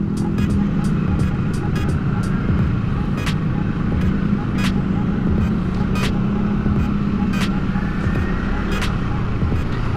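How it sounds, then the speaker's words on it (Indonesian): City traffic crawling through a jam in Cirebon, with a dense steady rumble of engines and passing vehicles, sharp clicks and knocks scattered through, and voices talking over it. "Cirebon kota ini cuy, tapi kok macet banget ya?"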